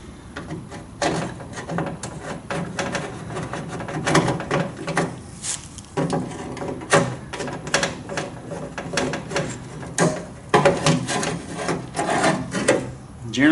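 Metal scraping, rasping and clunking as a door latch remote is worked loose from a 1949 Studebaker 2R5 door, irregular bursts of tool and screw noise close up, no talking.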